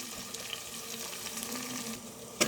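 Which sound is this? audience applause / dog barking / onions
onions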